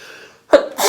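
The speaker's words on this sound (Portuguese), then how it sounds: "eu vou espirrar" One short, sharp sneeze bursts out near the end, following soft background sound, with a brief breathy tail.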